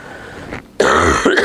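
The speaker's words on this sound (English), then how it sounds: "sorry, I had to cough." A single rough, throaty burst breaks the quiet after a brief pause, loud and close, with a short trailing rasp.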